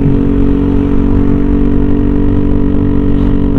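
A Yamaha NMAX 155 scooter fitted with a TZM racing exhaust runs steadily and loudly up close, its deep mid-pitched engine drone holding fairly even for a few seconds with no talk.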